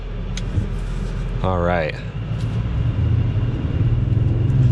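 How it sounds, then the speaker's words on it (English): Audi SQ5 Sportback engine sound piped into the cabin, a steady low rumble with faint turbo whooshes building under it, while a person speaks briefly over the drone. "Hear the little turbo noises, that's kind of fun."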